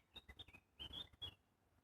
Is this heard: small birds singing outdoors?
yes